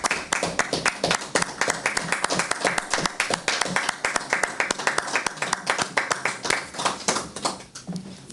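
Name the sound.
applause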